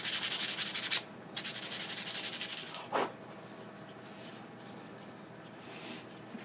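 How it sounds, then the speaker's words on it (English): Quick back-and-forth scratchy strokes of 150-grit sandpaper hand-sanding a wooden bandsaw scoop, close up, a burst of rapid passes followed by a few slower, softer scrapes. "so good old hand sanding"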